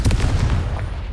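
A Confringo fire spell blast from the video game Hogwarts Legacy, a loud booming burst that rolls out over about a second with heavy low rumble and no voices.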